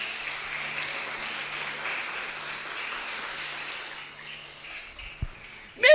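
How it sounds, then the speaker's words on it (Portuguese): A church congregation applauds in a faint, distant wash of clapping that holds steady, then thins and fades away, ending with a couple of soft knocks. "Dê um aplauso para o Senhor"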